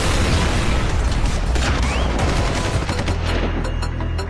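Gunfire in a gangster-war film battle scene, including a machine cannon: dense, loud, continuous bursts of automatic fire and booming impacts fill the scene without a pause.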